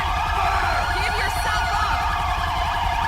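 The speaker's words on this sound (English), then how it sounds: "I'm going to go mute my siren" A police car siren in the GTA 5 video game, a Michigan State Police unit wailing continuously and loudly up close, its rising and falling tones layered over a steady engine rumble.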